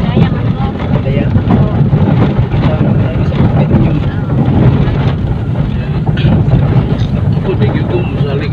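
A motorboat engine drones steadily, loud and close, with wind buffeting across the whole stretch and voices talking faintly over it.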